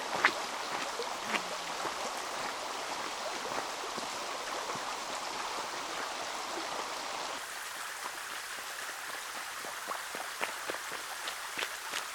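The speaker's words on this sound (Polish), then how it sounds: "Oto pierwsze wodospady." Waterfalls in Romania: a continuous broadband rush of falling water, steady and fairly close, with no speech, the tone shifting slightly partway through.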